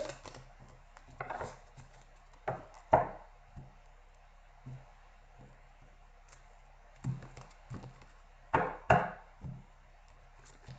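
Tarot cards being shuffled by hand, a few soft papery riffles and clicks spaced out over quiet, close and fairly faint.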